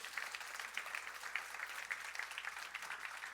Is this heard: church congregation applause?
yes